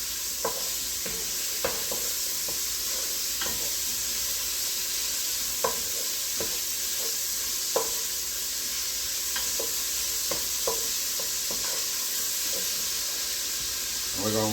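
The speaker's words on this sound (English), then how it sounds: "You just want the bacon rendered. You want it cooked." Bacon renders in a pan for a smoked gouda carbonara, giving a steady, fairly quiet sizzle with scattered crackles and occasional utensil scrapes as it is stirred, with no talking over it.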